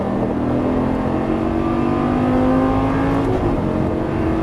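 A Lamborghini Gallardo LP550-2 accelerates hard on a race track, its engine note climbing steadily and loudly from inside the car before a brief shift near the end, with no talk over it.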